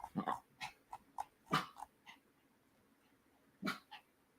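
Several dogs let out short, sharp barks and yips in scattered bursts, some close and loud, with quieter gaps between them.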